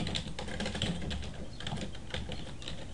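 Fast typing on a computer keyboard during software setup, a steady patter of close, crisp key clicks with no talking.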